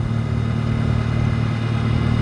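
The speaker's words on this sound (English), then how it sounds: "he don't even care that I'm here because I'm on a noisy tractor" A tractor engine runs steadily at close range while brush hogging a field, a continuous low, droning mechanical rumble with faint clatter and no pauses.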